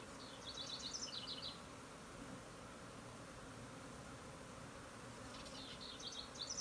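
A honeybee swarm fanning at the hive, a low dense buzz carrying through the whole stretch with brief high chirping bursts at the start and end, fairly faint and outdoors.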